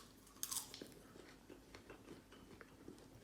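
Crunchy popcorn with a lot of salt being bitten and chewed up close, a sharp crackling bite near the start followed by steady, softer crunching chews, with no talking.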